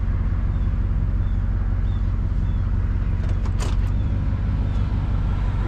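A GMC Yukon engaged in four-wheel drive sets off under a loud, steady low engine and drivetrain rumble heard from inside, with a few brief clicks and knocks partway through.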